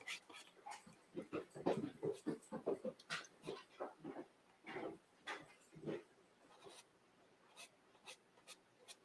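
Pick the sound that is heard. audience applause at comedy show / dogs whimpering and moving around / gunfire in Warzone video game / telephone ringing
dogs whimpering and moving around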